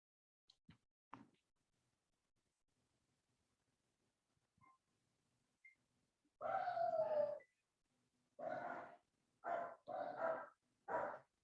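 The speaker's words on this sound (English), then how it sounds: "Sorry if you hear my dogs." Dogs in a quiet room let out a few faint grunts and sniffs early on, then several louder close barks and huffy vocal bursts in quick succession near the end.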